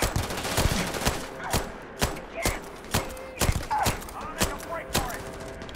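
Gunfire in the video game Starfield: a string of sharp single shots spaced roughly half a second apart, close and punchy, with brief quieter gaps between them.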